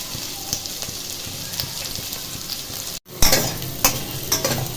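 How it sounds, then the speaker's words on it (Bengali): Vegetables and green chillies frying in a pan for a simple homemade pasta, a close, steady sizzle and crackle with a brief break, then louder bursts of spitting as the pan is stirred. "সবজিগুলো হালকা করে একটু ভেজে নিতে হবে, খুব বেশি ভাজবো না।"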